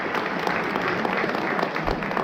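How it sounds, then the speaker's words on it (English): A round of applause at a charity gala, steady dense clapping from a crowd filling the room at close range, loud and continuous without talk. "Give him another round of applause."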